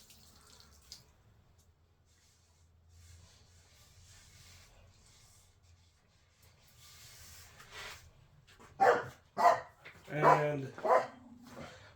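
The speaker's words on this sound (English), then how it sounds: "my security guard doggies are doing the security guarding against the cats of the neighbor's cats" Dogs barking at the neighbor's cats, a few sharp barks in quick succession near the end after a long quiet stretch, fairly close, with faint dripping water and a brief voice.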